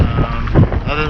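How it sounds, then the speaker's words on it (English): Strong wind gusts buffet the microphone on open saltwater during kayak fishing off Gasparilla, Florida, a steady loud roar and rumble with no letup. "Wind, as you can hear right now, wind was definitely a factor."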